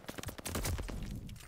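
Gunfire in the video game Call of Duty Vanguard during a ranked match: a quick, dense burst of rapid shots.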